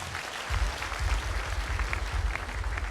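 An audience at a church gathering applauds with steady, close clapping that carries for the full three seconds, with no voices over it.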